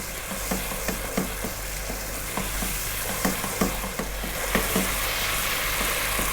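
Camel meat frying over a fairly lively heat, giving a steady close sizzle with repeated scraping and stirring clicks about every half second, plus a low constant hum underneath.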